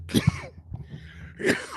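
Two quick, harsh coughs up close, followed by a brief pause with faint sounds, then another rough cough.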